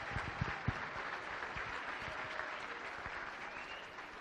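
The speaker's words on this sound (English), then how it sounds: "Let's give him a round of applause." A gala audience gives a round of applause, a fairly faint but sustained wash of many hands clapping in a large hall, with a few sharper claps near the start.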